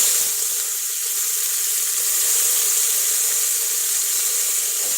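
Chopped onion dropped into hot oil with roasted cumin seeds sizzles steadily in a pan, a bright continuous hiss that stays even and loud throughout with no talking.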